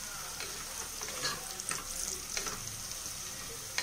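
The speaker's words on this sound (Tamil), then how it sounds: "வெங்காயம் வதங்கியிருக்கு, இன்னும் கொஞ்சம் வதங்கணும்" Onions sautéing in a pan for chicken biryani, a steady close sizzle with occasional stirring scrapes and light crackles, no talking.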